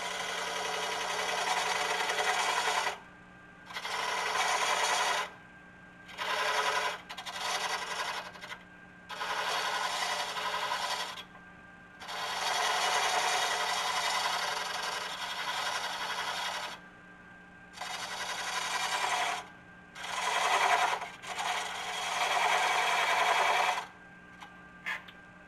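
A wood lathe cuts a tenon: bursts of scraping, hissing tool contact lasting a few seconds each alternate with short pauses where only the lathe's steady motor hum remains.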